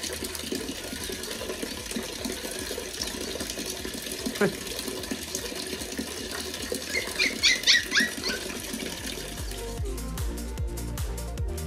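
Water running and falling somewhere nearby as a container fills, a steady trickling splash with clattering and some background voices mixed in.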